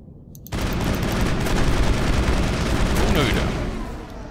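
Dense, continuous gunfire in the video game Mass Effect, a loud sustained burst of rapid shots lasting several seconds after a short quiet lead-in.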